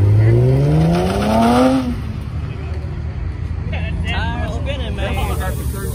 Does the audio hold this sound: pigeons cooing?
no